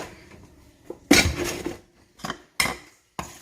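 Heavy cast iron pans knock and clank against metal in a few separate bursts, one long rattling clatter followed by shorter bangs, close by with no talking.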